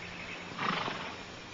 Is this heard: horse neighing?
yes